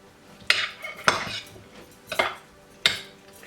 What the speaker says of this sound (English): Now I'll add in chaat masala powder and mix it well.